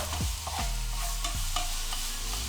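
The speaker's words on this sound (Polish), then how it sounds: "niech ten kurczak się smaży" Pieces of chicken sizzle in a hot frying pan while a utensil stirs and scrapes them in a few distinct strokes, close and moderately loud, with no talking.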